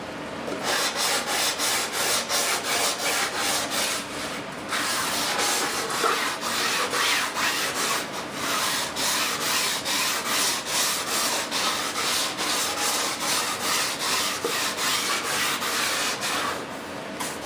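Rhythmic back-and-forth sanding of model F-18 wings with a sanding sponge, close and steady rasping strokes with brief pauses between passes.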